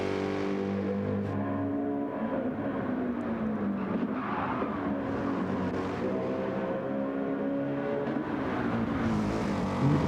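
Race car engines drone steadily through a video-game league race at Watkins Glen, several cars' tones layering and shifting in pitch at constant loudness with no pauses.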